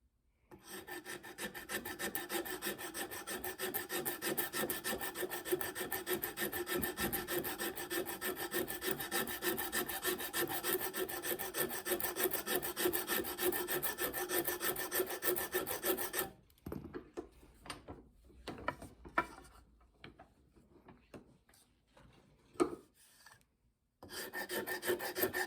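A rasp files wood from an axe handle while the axe is being hung, giving a long, steady, coarse scraping at a fast even stroke. It then breaks into scattered short rubs and pauses, and grinding resumes briefly at the end.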